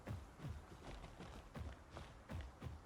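Dinosaur footsteps from the game Path of Titans, a handful of soft, low thuds spaced irregularly over a faint noisy background, fairly distant and with no speech.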